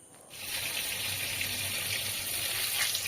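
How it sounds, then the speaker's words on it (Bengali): Whole garam masala and bay leaf hit hot mustard oil: after a brief quiet moment a bright, rushing sizzle bursts up and holds steady and close, crackling lightly throughout. "গোটা গরম মশলা তেজপাতা ফোড়নে দিয়ে দিলাম"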